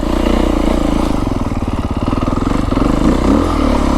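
A Beta 350 X-pro dirt bike rides in low first gear through a chunky rocky section on a mountain trail in southern Arizona. The engine chugs steadily, with clattering as the bike bumps over rocks.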